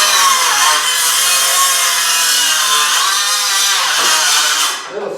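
A small 6.5-inch circular saw with a sharp carbide blade rips through wooden boards in one sustained, loud, high whine that dips briefly as the blade binds and then trails off at the end, with no talking.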